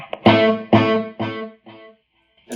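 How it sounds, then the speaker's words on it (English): An electric guitar through a Line 6 Helix and Mesa Boogie amp with a simple delay plays a few distinct notes, each followed by fading repeats, heard alone without talk. "Simple delay."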